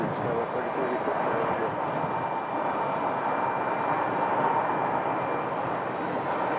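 A passenger airplane at Phoenix Sky Harbor airport gives off a steady, broad roar of jet engine noise that holds constant and fairly loud throughout, with a faint high whine running through it.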